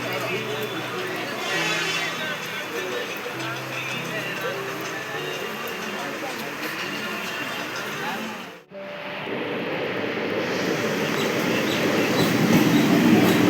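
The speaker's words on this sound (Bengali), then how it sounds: "তাতে তাতে ঢুকে পড়ছে ট্রেন।" A train pulls into a station with a rolling rumble and rattle of wheels that grows louder toward the end, while a person talks over it nearby.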